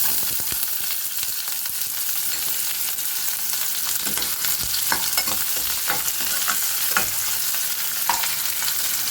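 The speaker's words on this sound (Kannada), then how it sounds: "ಎಣ್ಣೆ ಕಾದ ನಂತರ ಕಟ್ ಮಾಡಿಟ್ಟಿರೋ ಈರುಳ್ಳಿನ ಹಾಕ್ಕೊತಾ ಇದ್ದೀನಿ." Chopped onions dropped into hot oil in a pan, sizzling and crackling steadily and up close throughout, with occasional scraping stirs, no talking.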